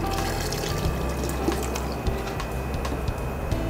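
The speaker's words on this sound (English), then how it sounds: "So I've added my vegetable stock." Vegetable stock poured into a pot of sweet potato and black bean stew, giving a steady liquid splashing stream that runs throughout, with faint kitchen background noise.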